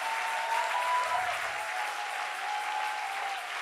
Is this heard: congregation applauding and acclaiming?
yes